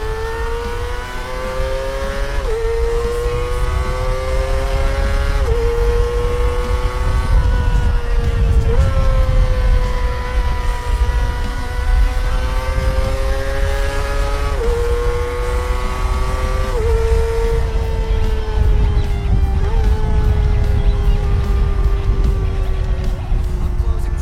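A loud, high-revving 2020 Kawasaki Ninja ZX-25R motorcycle engine accelerates hard, its pitch climbing and dropping repeatedly as it shifts through several gears, continuous and close.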